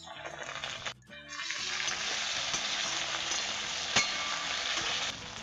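Chopped onions dropped into hot oil in a pan for an aloo katari recipe, a steady loud sizzle with a brief break near the start and occasional clicks of stirring.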